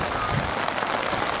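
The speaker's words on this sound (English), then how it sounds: "this rain's supposed to go until tomorrow" Heavy rain falls in a steady, dense hiss of drops pattering on surfaces, mixed with rushing, gushing runoff water nearby, continuous and fairly loud with no talking.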